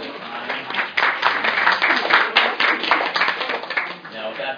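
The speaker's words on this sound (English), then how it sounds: "can we give them a round of applause for their time?" A small audience at an alumni career day panel claps for the panelists, a sparse and uneven burst of individual hand claps heard up close, with speech tagged over it.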